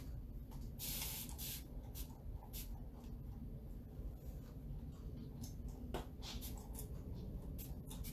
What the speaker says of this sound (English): I have a little spray bottle here of water that I'm wetting my fingers and cleaning them off with